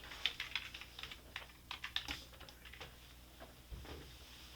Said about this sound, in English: It would help if I didn't fat finger the keyboard, right?